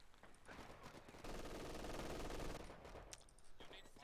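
Rapid MG42 machine gun fire rattling out in a World War II strategy video game, dense bursts layered over other gunfire and battle noise, with a sustained heavy stretch in the middle.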